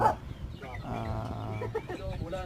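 Chickens cluck and murmur nearby in short bursts, with a faint voice underneath.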